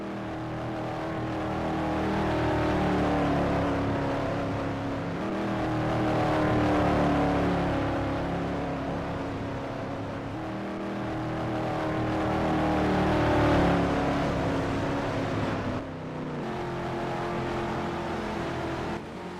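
Engines of a pack of race cars drone continuously in a stock-car racing game, a loud layered roar that swells and eases as cars pass, with no break for nearly twenty seconds.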